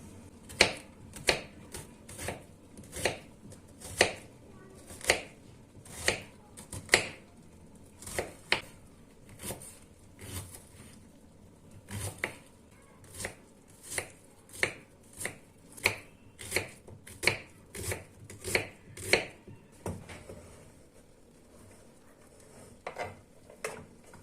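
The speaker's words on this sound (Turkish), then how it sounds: "Soğanımı doğrayacağım." A knife chops an onion steadily on a board, sharp regular strikes repeating for a long stretch, close and crisp, with no talking.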